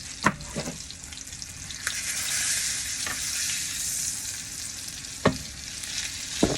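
Salmon sears in a hot pan, giving off a loud, continuous sizzle and crackle, broken by a few sharp clicks and knocks from cooking utensils, with no talking.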